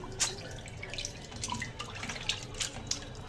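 Hot water runs over a fish being washed clean of its slime, a continuous splashing stream with small drips and clatters, close and moderately quiet.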